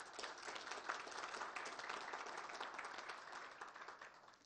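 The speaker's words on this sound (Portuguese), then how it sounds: "Peço uma salva de palmas." Steady, dense audience applause at a leadership and emotional-control talk, a full room clapping continuously at even strength before tapering slightly at the end.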